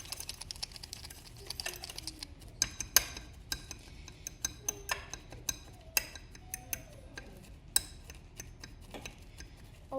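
Lotion being mixed into a DIY squishy mixture, with soft irregular clicking and tapping plus faint squelches, close and quiet, no talking.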